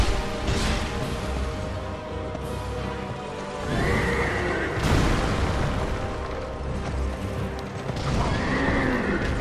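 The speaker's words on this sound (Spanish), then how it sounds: "Espérate que me mata el puto caballo" Horse neighing and whinnying during the Executioner's Chariot boss fight in Dark Souls II: Scholar of the First Sin, with loud hoof clatter and impacts under dense game noise, several whinnies rising above the din.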